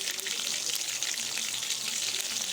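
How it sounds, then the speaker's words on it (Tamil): Eggplant frying in hot oil in a pan, giving off a steady close crackling sizzle that holds evenly throughout without pause. "நல்லா இன்னும் ஃப்ரை ஆகட்டும்."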